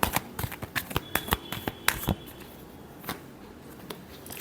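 Tarot cards shuffled by hand in a quick run of crisp riffling flicks and slaps, close and fairly loud, easing into softer scattered card taps toward the end.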